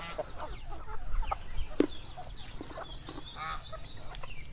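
Free-range chickens clucking in a farmyard with ducks and geese nearby, scattered short calls at moderate distance over a steady outdoor background, with no one talking.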